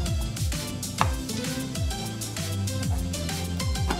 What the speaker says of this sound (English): Chop the vegetables.